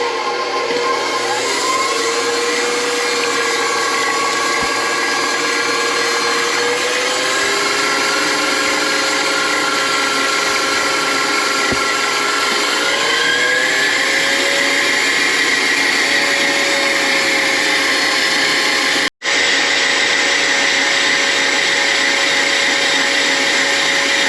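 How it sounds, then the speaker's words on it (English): An electric mixer whisks egg white until foamy for gluten-free amaretto cookie dough, a steady, close motor whine whose pitch shifts slightly as it runs, with a brief break near the end. "we're going to whisk up our egg white until nice and foamy"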